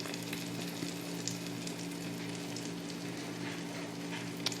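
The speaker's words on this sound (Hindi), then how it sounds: "नीचे से हम 2 से 3 मिनट पकाएंगे, उसके बाद हमारा ऑमलेट हो जाएगा रेडी" A cabbage omelette fries steadily in a pan, a soft, even sizzle with a faint hum and a few tiny pops, no voices.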